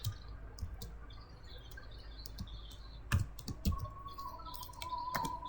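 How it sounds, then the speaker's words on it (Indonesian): Quiet tapping on a computer keyboard comes in short irregular bursts of keystrokes, with birds chirping faintly in the background. "untuk itu kita ketikkan perintah print"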